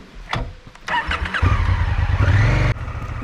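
Motorcycle engine starting up and revving, coughing to life with a few uneven bursts before settling into a loud, close, throbbing idle that cuts down suddenly near the end.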